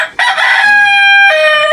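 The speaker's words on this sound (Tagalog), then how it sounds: "Gusto nyo ba makita yung manok ni Patrick Antonio?" A rooster crows once, loud and close, a long ringing cock-a-doodle-doo with no other sounds around it.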